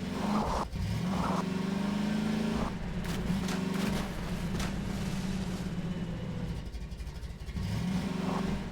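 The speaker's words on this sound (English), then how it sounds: "This car seems very capable of handling a lot of conditions." A car engine in the Half-Life 2 VR game drones steadily at mid pitch, rising and falling as the vehicle accelerates and eases off, loud and continuous with no speech.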